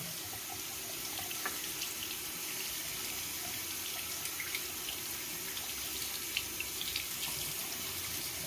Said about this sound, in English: So we're just basically going to get in here, run some water in it.